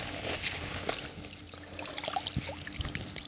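Water trickles and pours in a broadband wash with a few brief splashes, steady and moderately close, while no one speaks, during an outdoor test of a SURAO Life2Go emergency water filter.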